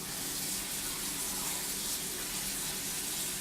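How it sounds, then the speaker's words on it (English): Kitchen tap running steadily into a bowl to soak Brussels sprouts, a continuous close hiss of filling water lasting a few seconds with no voices. "So we're just going to fill this up with water"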